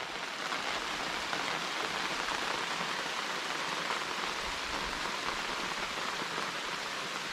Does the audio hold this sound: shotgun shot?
no